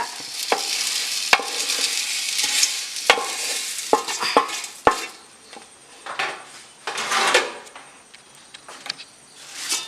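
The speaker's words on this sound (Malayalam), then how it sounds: "ആദ്യം നമുക്ക് ഈ അവലൊന്ന് ചെറുതായിട്ട് റോസ്റ്റ് ചെയ്തൊന്ന് എടുക്കണം." Beaten rice (aval) roasting dry in a pan for aval vilayichathu, stirred with a utensil: a steady dry rustle with sharp scrapes and clinks against the pan, close and continuous, no talk.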